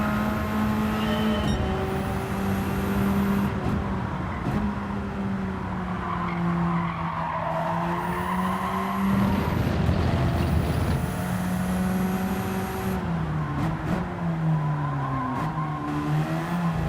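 Race car engine from a sim racing game roaring steadily, with pitch rising and falling through gear changes and turns, plus brief tire squeal, loud and continuous with no talking.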